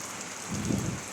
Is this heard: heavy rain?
yes